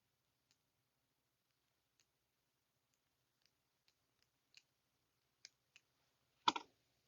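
Wire cutters snip through bracelet wire while a druzy Easter bunny bracelet is assembled: a scatter of faint, sparse clicks, then one sharp, loud close-up snap near the end.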